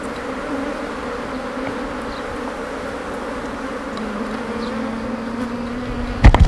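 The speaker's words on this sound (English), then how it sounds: "Yeah, that's what these are. They're honeybees." Honeybees buzz steadily and close outdoors on a valley hiking trail, a continuous insect drone with a few louder passes and a brief knock at the end.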